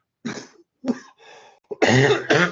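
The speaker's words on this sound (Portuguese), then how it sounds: "É o pigarro do charuto." A man with a cigar smoker's throat clears his throat several times in a row, rough gravelly rasps close to the microphone, ending with a couple of heavier hacking bursts.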